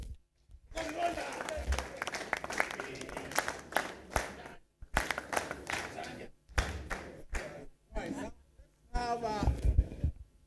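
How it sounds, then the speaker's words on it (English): Guests at a football club's end-of-season dinner clap in short bursts separated by brief silences, close and uneven, with some talk mixed in. "Oh, we need to clap for them."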